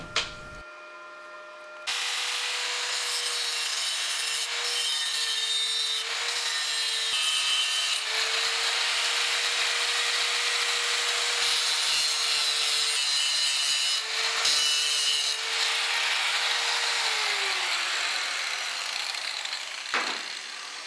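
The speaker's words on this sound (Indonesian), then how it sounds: "Langsung saja kita gerinda untuk melihat hasil sambungannya." Steady, loud, continuous grinding of a stainless steel weld joint with an angle grinder, a sustained high whine and rasp lasting the whole stretch with brief dips in pitch, close by and without speech.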